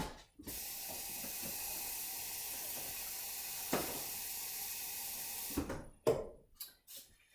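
Water runs steadily from a kitchen tap for several seconds while making red chili sauce for enchiladas, a soft continuous hiss ending with a few knocks and clatters as the flow stops.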